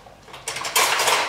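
Metal cutlery and dishes clinking in a home kitchen as a spoon is fetched, a few quick sharp clatters building to a brighter rattle, close and with no talking.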